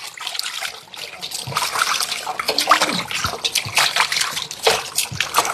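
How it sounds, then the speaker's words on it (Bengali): Rohu fish being washed by hand in water, with irregular splashing, trickling and dripping close by that comes in uneven bursts throughout. "ওই মাছটা এখন আমরা ওয়াশ করে নিব"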